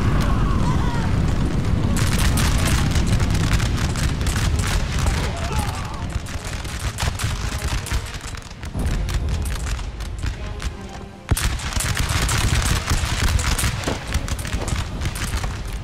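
Musket volleys in the Napoleon Total War video game, dense crackling fusillades and booming gunfire rolling on continuously with brief lulls, loud and close, with a voice talking over parts of it.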